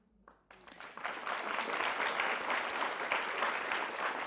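A live audience at a CreativeMornings New York talk bursts into sustained applause after a brief quiet start, building quickly into a dense, steady wash of many hands clapping at close range.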